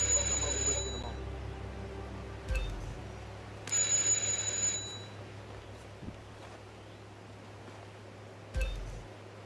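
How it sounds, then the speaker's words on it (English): A doorbell chimes in the video game Hitman 2, sounding several times as short bright rings over a low steady room hum, with small knocks between. "Just ring the doorbell"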